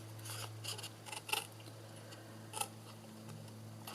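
Scissors snip through card while shaping a treat box, giving a few short, crisp cuts spaced irregularly over a steady low hum, fairly quiet and close.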